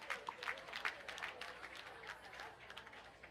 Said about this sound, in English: Let's give all those people a big round of applause.